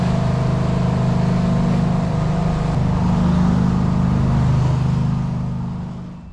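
Twin Detroit Diesel 6-71 engines on a Hatteras yacht run at a steady, loud droning roar with a whining high tone on top, holding constant before easing off at the very end.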